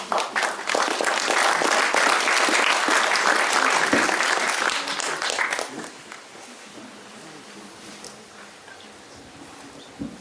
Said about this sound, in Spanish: a quien recibimos con un fuerte voto de aplausos